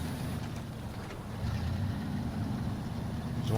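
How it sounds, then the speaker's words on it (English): Truck engine idling in the off-road driving game SnowRunner, with a trailer hitched, a low steady rumble at moderate level that swells slightly partway through, with no talk over it. "That engine is on."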